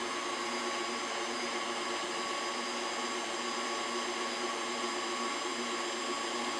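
A KitchenAid stand mixer beats choux dough at speed 4 while eggs are added, giving a steady, close whirring motor drone with an even hum that holds for the whole stretch, with no voices over it.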